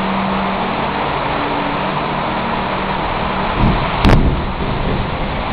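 One sudden loud thunderclap booms out of a steady outdoor hiss, rising sharply and then rumbling away over a few seconds.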